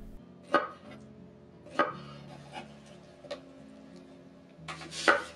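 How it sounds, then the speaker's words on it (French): A knife cuts pineapple slices into pieces for Korean sweet and sour pork, four or five sharp, quiet thunks on a board spaced a second or so apart, with no talking. "Coupez les tranches d'ananas en deux, puis en 4 morceaux."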